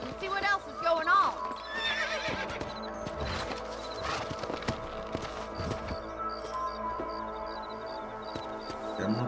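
Horse neighing and clip-clopping hooves in the Red Dead Redemption video game, a whinny rising early over steady hoofbeats with game music and ambient sound, and speech running throughout.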